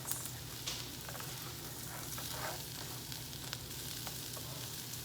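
Rice toasting in a pan with turmeric, garlic powder and bouillon cube gives a steady, continuous sizzle with faint patter throughout, close and even, no voices.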